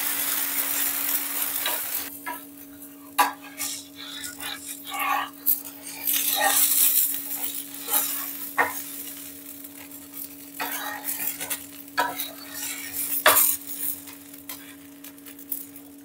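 Instant mosaru dosa batter sizzling in oil on a pan, a soft continuous frying hiss broken by scraping and clattering spatula strokes, with a steady background hum.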